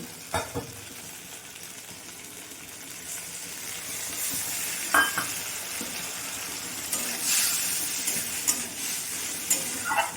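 Spice paste frying in a pan for a Bengali ridge gourd and fish curry sizzles steadily after a splash of water, with a few stirring clicks and brief hissing bursts throughout.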